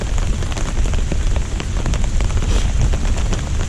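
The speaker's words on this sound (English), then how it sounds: "You can probably hear the rain on the tarp" Steady, dense patter of heavy rain drumming on a taut 5x7 tarp overhead in woodland, close and continuous with no pauses.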